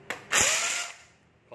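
A cordless battery drill in hammer mode bursts into a loud whirring run after a brief click, holding steady for about half a second before winding down.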